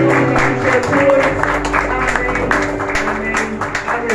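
A church congregation claps in praise to God, a steady, dense patter of many hands alongside sustained music tones throughout.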